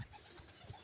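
Pigeons coo on a rooftop: a few soft, low, rounded calls close by over a quiet background, with no speech.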